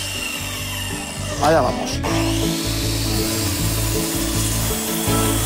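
A sliding-rail miter saw whirs and bites through a wooden workpiece for a standing coat rack, making a sharp close cutting burst and a knock, then a steady motor hum with a person briefly speaking.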